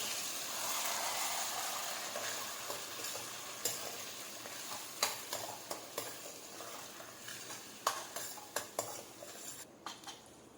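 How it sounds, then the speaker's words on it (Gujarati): A spoon stirs onion-tomato gravy into a pan with sautéed garlic for a dried pigeon pea curry, soft sizzling underneath and scattered sharp clinks of metal against the pan. "ડુંગળી ટામેટાની ગ્રેવી જે બનાવી છે તે નાખી દઈશું મિક્સ કરી લઈશું"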